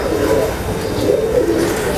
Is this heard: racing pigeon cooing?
yes